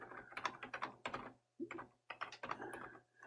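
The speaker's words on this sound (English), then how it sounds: "I'm just typing a simple message and hitting the enter key" Someone types a message on a computer keyboard, quick soft bursts of key clicks in short runs with brief pauses between, quiet and close, over a low steady hum.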